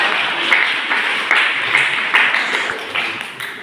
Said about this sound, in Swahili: Mpigeni makofi.